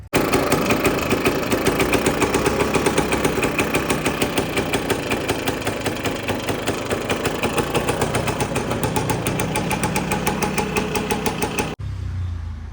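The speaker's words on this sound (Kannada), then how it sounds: "ಈಗ ಸ್ವಲ್ಪ ದಿನದಿಂದ ಸ್ಟಾರ್ಟ್ ಮಾಡಿದಾಗಲೆಲ್ಲ ಸ್ಟಾರ್ಟ್ ಆಗೋದು, ಒಂದು 2 ಕಿಕ್ಕಿಗೆ ಸ್ಟಾರ್ಟ್ ಆಗೋದು" A Vijay Super scooter engine runs close by in a fast, even put-put pulse that holds steady for about twelve seconds, then abruptly cuts out into a low murmur.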